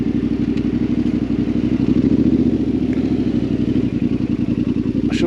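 Yamaha Tenere 700 Rally motorcycle engine on a test ride, a loud, close, steady rhythmic thrum with rattling clatter and wind, running continuously without speech.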